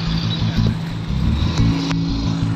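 Steady road traffic rumbles along Arnaldo Highway in Cavite, with continuous engine drone and a vehicle passing close by, fairly loud throughout.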